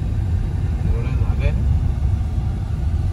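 Road traffic heard from inside a moving car comes through as a constant low engine and road rumble, with a brief faint voice partway through.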